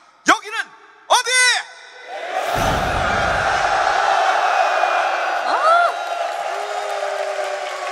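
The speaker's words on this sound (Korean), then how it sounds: "다시 한번 우리 해군교육사령부 장병들의 함성 들어볼까 합니다" Navy Education Command soldiers let out a loud, sustained collective roar and cheer. It starts after two short bursts of voice and holds steady to the end over a busy, crowded background.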